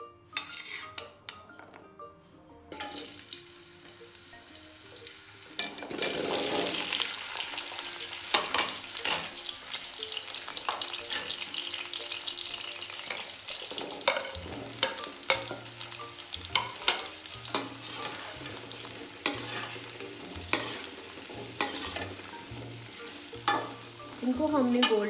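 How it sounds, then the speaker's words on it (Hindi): Turnip pieces fry in hot ghee for a shaljum gosht curry, giving a steady loud sizzle. A spoon stirs and scrapes against the metal pan throughout, with occasional clinks. "इसमें हम शलजम को अच्छी तरह हम इसमें फ्राई कर लेंगे।"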